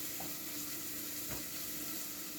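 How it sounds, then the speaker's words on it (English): Onion and garlic sauté in a pan, a steady low sizzle running the whole time with one brief stir or scrape partway through; no one speaks. "we are going to saute this for another minute or so because of the garlic"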